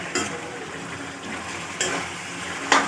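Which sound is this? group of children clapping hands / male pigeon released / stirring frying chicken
stirring frying chicken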